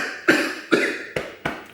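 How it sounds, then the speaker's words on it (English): Four sharp, harsh coughs in quick succession, each a loud burst followed by a brief fade, close to the listener with no talking. "coughing fit, sorry dudes"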